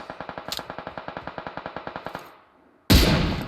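Rapid automatic gunfire from the video game PUBG Mobile rattles in an even burst of about twenty shots, fading slightly before stopping, followed after a short pause by a sudden loud blast of noise.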